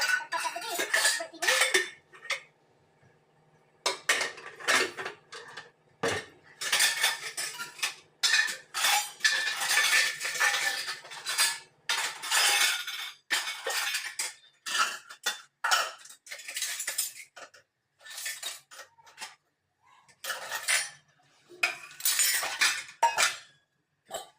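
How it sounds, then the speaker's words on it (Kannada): Pots, plates and steel utensils being washed by hand make irregular, close clatters and clinks of metal, with brief quiet pauses between bursts. "ಇವಾಗ ಪಾತ್ರೆ ಎಲ್ಲ ದಬಾಕ್ತೀನಿ"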